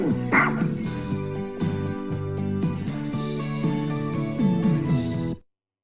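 A dog yips and barks repeatedly over steady background music, then it all stops abruptly into silence.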